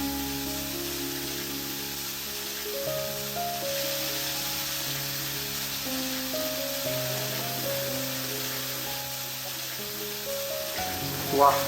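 Hot oil sizzles and crackles steadily as garlic, chillies and curry leaves fry in a tempering, a dense continuous hiss with a brief louder spatter near the end.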